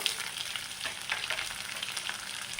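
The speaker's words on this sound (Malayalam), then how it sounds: "ഇതെല്ലാം നമ്മൾക്കൊന്ന് പിന്നെ നന്നായി ഒന്ന് ഫ്രൈ ചെയ്തെടുക്കാം" Ginger, shallots and sliced garlic fry in a pan with a dense, bright crackling sizzle that stays steady and close throughout, with small pops scattered through it.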